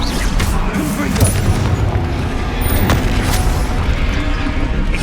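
A Confringo spell blast booms in the Hogwarts Legacy video game amid a dense, continuous roar of magical combat, with a voice calling out spell names over the din.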